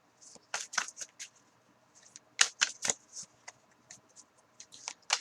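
Crisp papery flicks and riffles of tarot cards being bent and shuffled, in irregular bursts of quick snaps, close and quiet.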